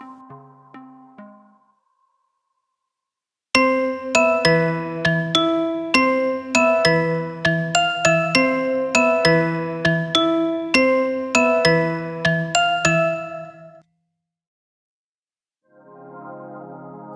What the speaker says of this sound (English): now let's hear the layered melody with the piano and the bells